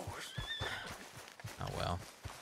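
A horse neighs and whinnies in a video game, with faint hoof clip-clop and a voice talking over parts of it.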